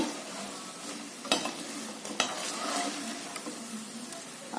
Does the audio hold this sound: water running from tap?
no